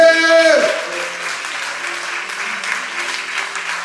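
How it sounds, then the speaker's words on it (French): A church congregation claps together at a preacher's call, dense sustained applause following a brief loud vocal exclamation at the start, with some voices mingled in. "Applaudissez!"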